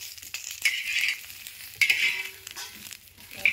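Tomatoes frying in oil in a pan, with bursts of sizzling and spatula stirring that come and go in short close-up waves over a quiet background.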